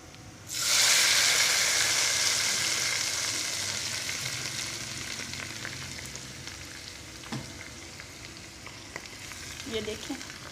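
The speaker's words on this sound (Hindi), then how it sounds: "मिर्चें भी देखें फ्राई होना शुरू हो गई हैं, ज़ीरा भी और हमारा लहसुन भी तैयार हो गया है।" Chilies, cumin and garlic frying in a pot, a loud bright sizzle bursting in and slowly fading to a steady hiss with a few small clinks.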